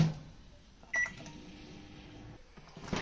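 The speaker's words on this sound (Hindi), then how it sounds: "अब मैंने गार्लिक चीज़ सैंडविच माइक्रोवेव में रख लिया है और हम इसको 30 सेकंड के लिए रखेंगे।" A microwave oven running with a garlic cheese sandwich inside, giving a steady low hum with a short beep or click near the middle and faint handling sounds toward the end.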